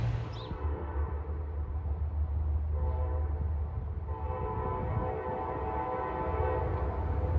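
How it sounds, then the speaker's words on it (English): Amtrak 49, the Lake Shore Limited running from New York to Chicago, passes near Peekskill on the Hudson line with a steady, loud rumble. A brief horn blast sounds at the start, and the roar stays fairly constant throughout. "this should be Amtrak 49, the Lakeshore Limited from New York to Chicago."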